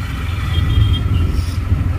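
Auto rickshaw riding through the streets of Bengaluru, its engine a steady low rumble close by with continuous road and traffic noise, no talking.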